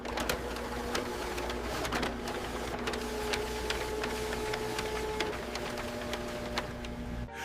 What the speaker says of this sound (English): Nearby printers began producing duplicate cover sheets.